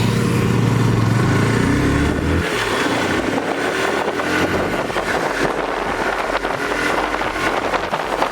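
A TVS Apache RTR 180 2V BS6 motorcycle rides at speed, its engine droning steadily before giving way to heavy rushing wind noise that dominates the rest of the ride.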